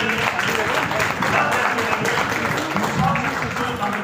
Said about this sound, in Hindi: शानदार वाली तालियां